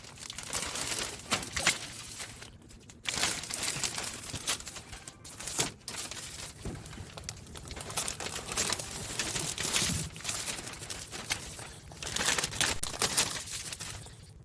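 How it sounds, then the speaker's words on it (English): Masking paper and tape being peeled and crumpled off a freshly painted 1992 Chevrolet Camaro Z28 in flat black, with loud continuous crinkling and tearing bursts close up and brief pauses between them. "I think it's good enough to take off the masking"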